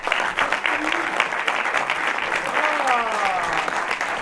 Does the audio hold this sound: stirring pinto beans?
no